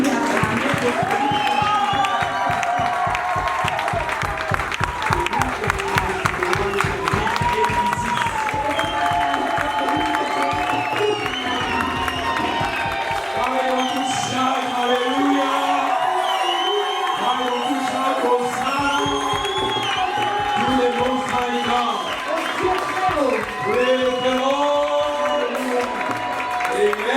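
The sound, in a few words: congregation clapping hands in church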